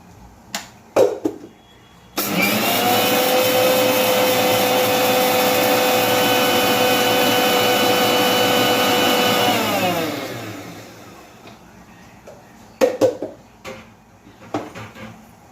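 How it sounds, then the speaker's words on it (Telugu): A kitchen mixer grinder whirs at high speed on sesame, coriander seeds, fenugreek and salt, starting abruptly and running loud and steady for about eight seconds before spinning down, with a few clicks and knocks of the jar before and after. "మిక్సీ వేస్తున్నాను"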